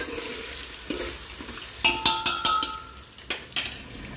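Pav bhaji masala spices are stirred in a cooking pan, with a quiet sizzle underneath and a run of distinct metallic scraping and clinking strokes from the spoon, close and rhythmic.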